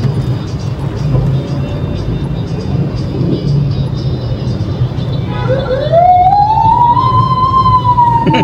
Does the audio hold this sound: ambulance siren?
yes